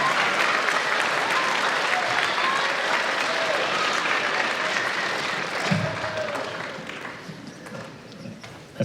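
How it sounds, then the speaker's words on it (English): Audience at a junior choir concert gives the parents a loud, sustained round of applause, dense clapping with scattered cheers that gradually thins out toward the end. "Let's hear some applause for the parents."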